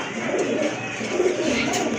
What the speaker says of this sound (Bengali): এখানে কিন্তু এক জোড়া গ্রিজেল কবুতর আছে দেখতে পাচ্ছেন